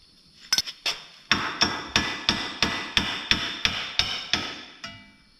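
A hammer strikes a sway bar nut on a Segway UT10 utility vehicle, a few quick taps followed by about ten sharp, evenly spaced metallic blows with a ringing clink, close and loud.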